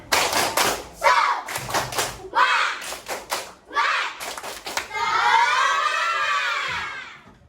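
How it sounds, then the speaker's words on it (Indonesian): A primary-school class does a rhythmic 'tepuk semangat' cheer in a classroom, with bursts of patterned clapping mixed with children's voices, then a sustained chanted shout from the group. "Ulang lagi sekali yang semangat. Tepuk semangat."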